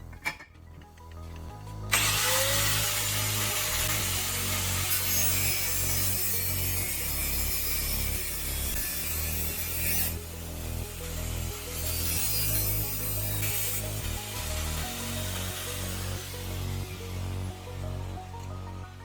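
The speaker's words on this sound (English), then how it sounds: "Clamp each can in a vise and cut along the marked line using a cutting tool" Metal cans clamped in a vise and cut with a power cutting tool, giving a steady, loud, continuous grinding whine that runs almost without pause, close by.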